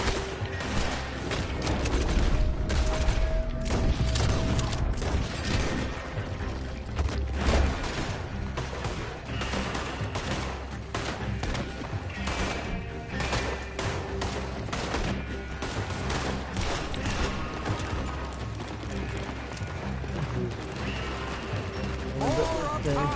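Heavy gunfire erupts in a Red Dead Redemption 2 shootout with repeated sharp shots, booms and crashes in an irregular volley over game music, while voices shout through the fight.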